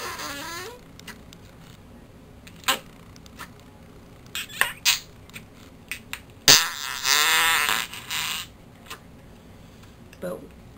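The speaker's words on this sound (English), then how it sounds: "you can put it back in here and make the farting sounds" Slime putty pressed down into a plastic container gives off a string of squelchy, farting noises: a few short pops early on, then a louder, drawn-out squelch in the middle, with a faint voice in the background.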